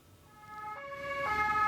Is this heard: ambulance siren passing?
yes